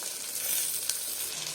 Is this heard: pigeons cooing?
no